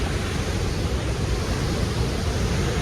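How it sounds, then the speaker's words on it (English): Blansinga Waterfall roars as a steady, dense wash of falling water, loud and continuous with no breaks or voices. "Blansinga Waterfall."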